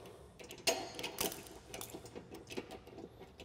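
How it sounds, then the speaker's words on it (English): Clicking and ratcheting from a torque wrench snugging down the lower bolts of a Kolpin SwitchBlade UTV snow plow to 17 foot-pounds, a quiet, close series of irregular metallic clicks and taps with no talk. "Now we're going to tighten up the lower portion of the 12 bolts. You're going to torque these down to 17 foot-pounds."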